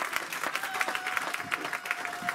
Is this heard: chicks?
no